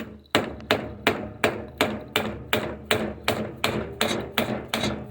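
A hammer strikes a screw extractor driven into a broken bolt, eleven sharp metallic blows landing at a steady, even rhythm, loud and close.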